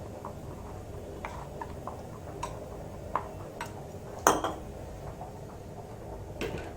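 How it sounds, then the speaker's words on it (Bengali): Chili powder is mixed with a little water into a paste in a bowl, with faint, quiet spoon taps and clinks against the bowl at irregular intervals over a low background hum. "একটু জল মিশিয়ে পেস্ট বানিয়ে নেব।"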